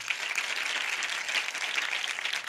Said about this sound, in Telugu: ఏదో ఒకసారి చప్పట్లు కొట్టండి.